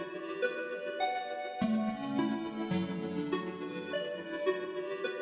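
A bright synth melody with a wide, shimmering chorus and lingering reverb tails, notes blending into each other at a steady moderate level.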